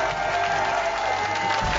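A studio audience in a French television charity show gives a short burst of steady clapping and light cheering, dense and continuous for under two seconds.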